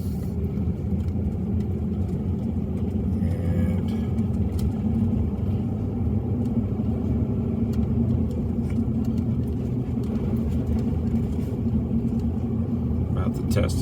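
A small truck drives along a snow-covered farm road, its engine a steady, close rumble that runs the whole time with a faint rising rev, while a person talks over it.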